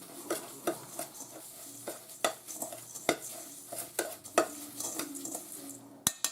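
A meatloaf mixture with minced garlic being stirred in a bowl, producing a series of sharp scrapes and clacks of utensil against the container, close and uneven in rhythm, with no one speaking.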